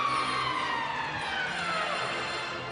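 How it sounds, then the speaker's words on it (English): A siren in an ice hockey arena sounds at the end of the second period of an NHL game between Edmonton and Chicago. It is a sustained, fairly loud wail that slowly drops in pitch, with no talk over it. "Bannerman stopped it as the siren goes to end the second period."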